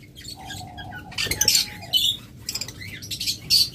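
Frightened blue Fischer's lovebirds at night give sharp, high squawks and chirps in short bursts, close by, with rustling and fluttering between calls and a faint steady whistle-like tone early on.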